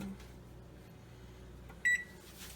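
An oven control panel gives a single short electronic beep while being set to preheat to 350 degrees, clear against a quiet kitchen background.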